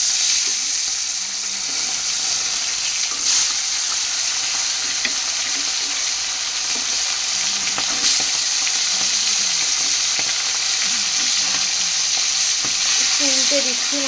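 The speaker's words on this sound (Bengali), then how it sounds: "মাছগুলো আমি ভেজে নেব এক এক করে।" Fish coated in turmeric and salt frying one by one in hot oil in a kadai, giving a continuous loud sizzle and crackle throughout, with occasional clinks and stirring noises close by.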